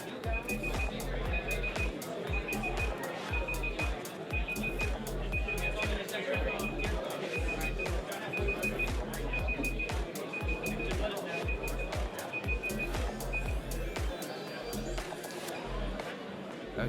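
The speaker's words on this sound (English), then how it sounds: "that was an extremely loud timer" A loud electronic timer alarm sounds in a rapid, steady beeping pattern for most of the stretch over constant crowd chatter at a card game tournament, with people talking throughout.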